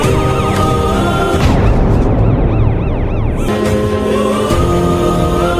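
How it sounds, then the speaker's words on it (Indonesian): An ambulance siren in an Indian film scene wails loudly and without pause, its repeating up-and-down tone close by over a dense layer of other sound. "Raja Ram dan Vicky datang dengan membawa ambulan yang berisi anak-anak panti"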